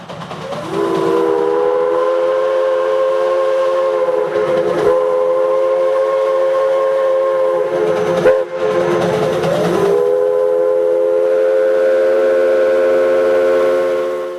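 A steam locomotive's whistle, on a tourist excursion train in West Virginia, sounds in several long, sustained blasts with short breaks between them, loud and clear over the low chug of the train.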